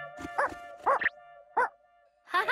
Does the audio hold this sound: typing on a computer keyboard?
no